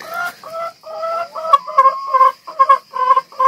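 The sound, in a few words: chickens clucking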